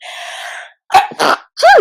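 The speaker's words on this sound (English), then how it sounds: "Sorry, I'm going to sneeze." A single sharp sneeze from a person with a mild allergy, building from a soft intake into a loud burst, followed by brief speech nearby.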